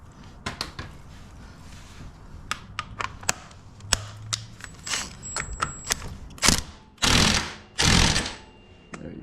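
A ratchet wrench tightens a nut on a Yamaha Raptor 700R quad, giving scattered close clicks and short mechanical bursts that end in a few louder rasping strokes, with no talking.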